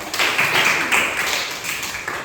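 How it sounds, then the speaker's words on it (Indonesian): A classroom applauds a student group after their presentation, a short, close burst of many hands clapping that softens near the end. "Tepuk tangan dulu"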